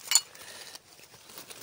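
Old broken glass and crockery clink at abandoned, forgotten village ruins: one sharp bright chink at the start, followed by faint scraping and rustling rubble, close by, with no voices.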